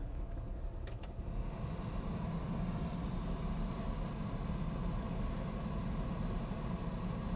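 A 1968 Chevrolet Camaro engine runs at a steady, close, low rumble as its air-conditioning compressor is switched on, with a brief click near the start and then an unbroken drone.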